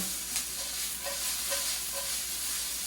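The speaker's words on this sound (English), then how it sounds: "we're just going to quickly cook these onions in the pan" Sliced onions cooking in a hot seasoned pan, a faint, even sizzle with light intermittent stirring scrapes.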